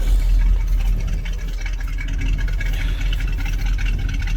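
An old carbureted engine runs close by with a steady, rough low rumble and slight unevenness, heard alone.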